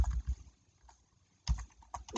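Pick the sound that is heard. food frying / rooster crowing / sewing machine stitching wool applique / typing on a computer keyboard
typing on a computer keyboard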